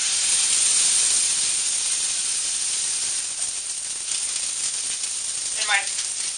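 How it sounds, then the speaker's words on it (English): A steak hits a hot pan and sizzles loudly, a steady bright hiss of frying that stays strong and even throughout, with a faint brief clatter near the end. "But I am going to put my steak on."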